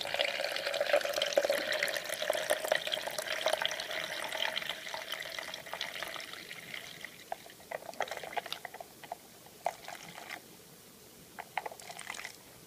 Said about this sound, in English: pour your milk in there